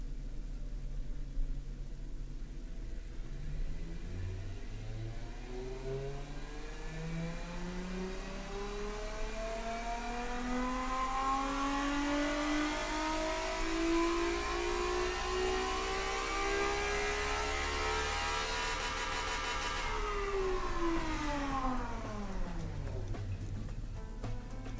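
A naturally aspirated 3.2-litre 30-valve V6 from a car-building simulation game revs steadily upward for about twenty seconds, its tone rising smoothly to a high scream before dropping sharply as the throttle closes. It plays alone, loud and continuous.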